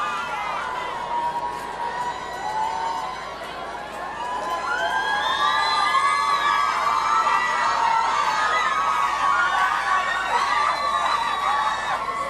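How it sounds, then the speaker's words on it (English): A crowd cheering at an outdoor parade, with layered shouts, whoops and high voices swelling and staying loud, and a siren-like wail rising among the cheers. "I love when people walk by our booth and just start cheering."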